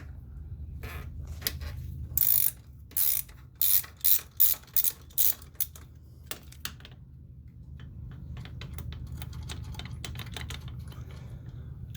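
A 1/2 inch ratchet clicks in short, sharp bursts as it loosens a brake bolt on a 2010 Polaris Sportsman 500 HO, with a dozen or so crisp, evenly spaced strokes over a low background hum.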